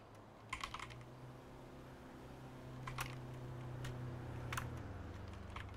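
Quiet typing on a computer keyboard, a few short bursts of key clicks spaced apart over a low steady background hum, with no talk.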